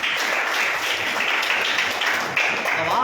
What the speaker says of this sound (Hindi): अब आप ताली बजाओ यीशु के नाम में